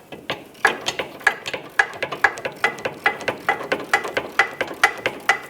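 A ratchet wrench loosens the nut on a front sway bar link of a 2010-2014 Subaru Outback, clicking in a quick, steady, close run of about twenty sharp ratchet clicks.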